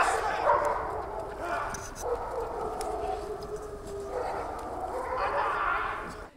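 Police service dogs at a canine unit center in Karachay-Cherkessia bark and yip repeatedly at moderate distance, blending with a steady background hum and faint voices.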